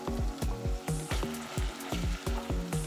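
Onions and locust beans frying in palm oil in a pot for Nigerian egusi soup, giving a steady close sizzle broken by rhythmic clattering strokes from stirring.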